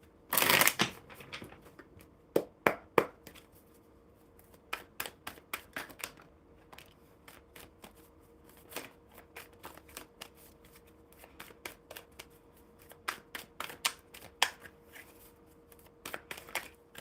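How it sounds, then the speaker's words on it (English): A deck of playing cards shuffled during a live card session, with repeated crisp riffles and snapping bursts spread across the stretch, close and fairly quiet, with no talk. "One more good shuffle for Ilham."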